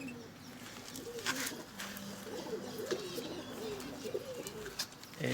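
Doves in a small aviary colony shared with budgerigars and finches coo repeatedly in soft, rolling phrases at close range, with a few sharper bird chirps and faint background noise.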